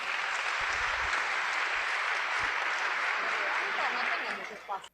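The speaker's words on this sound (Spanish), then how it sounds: "Un fuerte aplauso, por favor." An audience gives sustained, dense applause at a talk on gender ideology, steady and full for several seconds before tapering off abruptly at the end.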